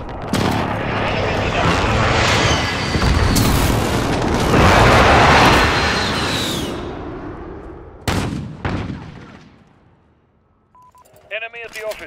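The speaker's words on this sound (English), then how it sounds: "Giant precision airstrike incoming." Jets roar overhead during a precision airstrike in Call of Duty: Modern Warfare, followed by loud explosions and sharp blasts, then a pause and a few fainter electronic beeps, with game voice callouts mixed in.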